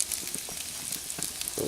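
Steady sizzling of food frying on a hot grill, with soft crackles and pops throughout, moderately close and uninterrupted by voices.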